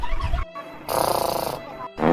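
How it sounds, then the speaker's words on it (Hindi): Loud, wheezy snoring in two long rasping breaths separated by short pauses, close up, with no one talking. "या मोर लड़कवा खरर खरर खर्राटे मारत है।"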